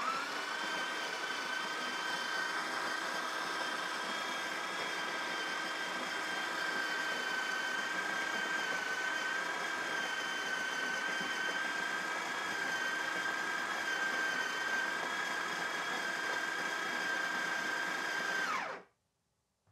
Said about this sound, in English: you can touch the picture and it'll start grinding the coffee beans